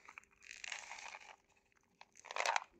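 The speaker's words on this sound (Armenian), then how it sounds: "երկու փիսոները ենտեղ են ուտում" Two stray cats crunch and chew dry food up close, in two bursts of crisp crunching separated by a quieter pause, with no talking.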